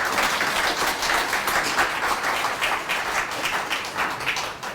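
A crowd applauds to welcome a lawmaker at a policy forum in the National Assembly members' office building, with dense, sustained clapping close by that thins slightly at the end.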